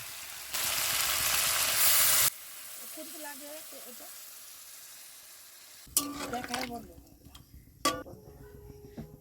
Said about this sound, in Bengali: পরিমাণ মতো জল দিয়ে নেব।